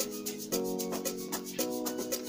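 A TTC bass-type instrument programmed in FL Studio Mobile for an amapiano-style track plays a short looping phrase of tonal notes over crisp, scratchy rhythmic hits; steady and moderately quiet, with no voice.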